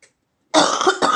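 A loud, close cough burst from a woman with a badly sore throat and heavy cough, a dense harsh hack followed by a brief second cough, with no talking.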